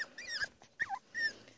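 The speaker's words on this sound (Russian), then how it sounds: "Вот такие котятки-щенятки у нас." Young puppies whimper close by in a few thin, high, quavering whines, soft and broken by short pauses, with no talk.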